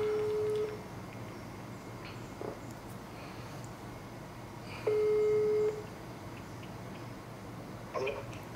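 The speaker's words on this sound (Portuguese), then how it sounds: "eu vou ligar pro despachante primeiro" A telephone ringback tone while placing a call, steady beeps repeating every few seconds over faint background hiss.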